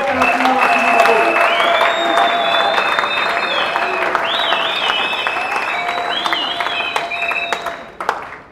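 A church congregation applauds and cheers for a sustained stretch, dense steady clapping mixed with crowd voices and whistle-like cries, with some talk underneath, tapering off near the end.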